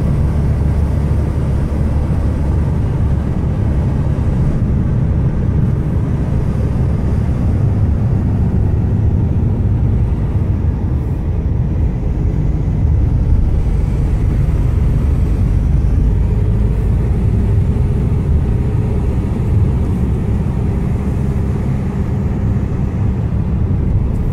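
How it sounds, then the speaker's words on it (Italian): A steady, heavy rotor rumble of three firefighting helicopters overhead at a wildfire, with Canadair planes also active, fills the air without pause, loud and droning throughout. "sentite il rumore degli elicotteri ci sono in azione due Canadair e tre elicotteri"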